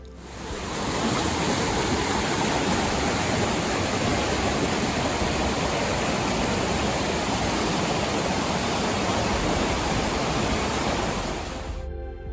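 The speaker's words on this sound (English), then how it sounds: "Cold Spring Creek drops 110 feet in a wide curtain, creating a refreshing spray for those who venture close enough." Tamanawas Falls roars steadily as Cold Spring Creek plunges 110 feet in a wide curtain. The dense, even rush of water stays loud and close throughout, with no voices.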